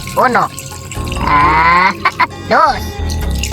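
Water pours into a cooking pot while ginataang tulingan with shrimp and pork fat is prepared, the stream rising in pitch as the pot fills, with voices counting and talking close by before and after.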